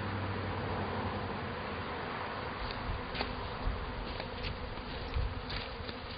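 Honeybees buzzing inside a spring hive opened after winter, a dense, steady, loud drone of many wings with small knocks from handling the cover.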